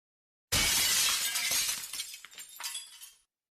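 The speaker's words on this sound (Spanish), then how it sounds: "El sonido de cristales rotos" Glass windows shatter in one loud, sudden crash, followed by a few seconds of tinkling, scattering shards that fade to silence.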